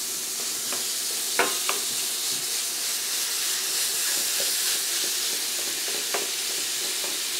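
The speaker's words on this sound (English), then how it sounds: "get the sizzle right there" Ground turkey meat seasoned with salt, pepper and chili powder fries in a pan, giving a loud, constant sizzle and hiss with a few sharp pops, no voices.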